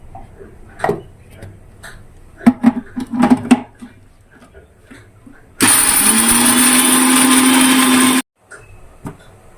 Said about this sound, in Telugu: పల్లీలు, కరివేపాకు, కొబ్బరి అనేది నేను ఫస్ట్ మిక్సీ పడుతున్నా